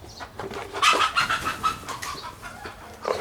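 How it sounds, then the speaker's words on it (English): A chicken clucks in a burst of close, raspy calls over a noisy background, with a few quieter clucks trailing off. "This chicken is making noise here."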